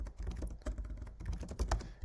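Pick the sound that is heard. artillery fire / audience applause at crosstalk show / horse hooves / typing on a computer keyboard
typing on a computer keyboard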